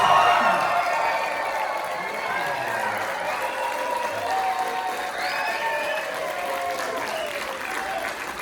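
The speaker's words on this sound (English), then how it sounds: "it will break my spell if you cheer very, very loudly" Theatre audience at a late-autumn performance of A Midsummer Night's Dream breaks into loud, sustained applause and cheering, a dense steady roar of clapping with scattered shouts lasting throughout.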